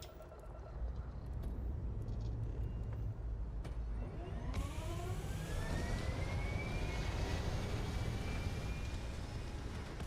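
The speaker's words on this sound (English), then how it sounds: "I love the takeoff and landings in Starfield" Spaceship taking off in Starfield: a steady engine roar swells from around the midpoint, with rising whining tones sweeping upward as thrust builds, loud and continuous with no talking.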